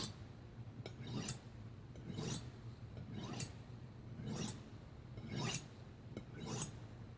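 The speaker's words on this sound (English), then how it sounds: "Now you can sharpen your knife too much, so try not to go crazy." A kitchen knife drawn along a sharpener in six slow, evenly spaced strokes, each a rising metallic rasp ending in a bright scrape, close and fairly quiet with no talk.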